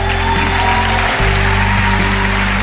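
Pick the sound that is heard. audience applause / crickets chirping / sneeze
audience applause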